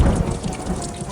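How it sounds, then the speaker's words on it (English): Rain pours in a dense, steady wash with a heavy low rumble at the start, loud and close for the short stretch. "Rain."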